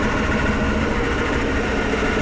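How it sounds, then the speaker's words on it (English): Loud, steady drone and rumble from a Ford 7.3 IDI diesel with an E4OD transmission, suspected torque converter noise, running continuously at a constant level with no voices. "it sounds like it's coming from the torque converter"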